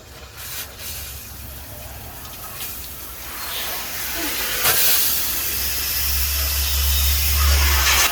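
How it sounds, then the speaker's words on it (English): Garden hose spraying water through a DIY under-car sprayer beneath a parked car, a steady loud hissing rush that builds and thickens toward the end, with a low rumble underneath. "we're just going to turn the hose on now, and we'll see how it goes under there"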